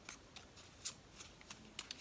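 Tarot cards being shuffled by hand, a quiet series of soft riffling bursts and light flicks spread irregularly over about two seconds, with no talking.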